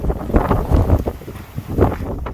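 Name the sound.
strong wind on coastal volcanic hike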